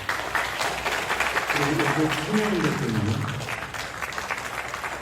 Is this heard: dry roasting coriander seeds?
no